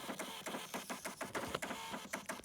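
A parking system's receipt printer prints an information slip, giving a close, steady run of rapid buzzing, ratcheting pulses for a couple of seconds with no talk.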